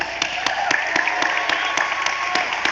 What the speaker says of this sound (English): all y'all that's clapping